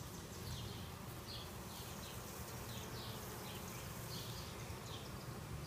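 Honey bees hum in a soft, continuous swarm drone during a package bee installation, faint and steady throughout with no voices over it.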